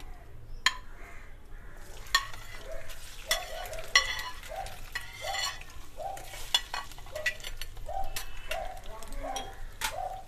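Paneer pieces drop into a pan set over an earthen clay furnace while making cherry paneer, bringing a steady close sizzle with repeated soft stirring scrapes and light utensil taps against the pan.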